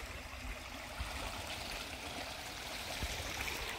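Water gushes strongly and steadily into a tilapia fish pond, a continuous full rushing stream heard close and alone with no voices.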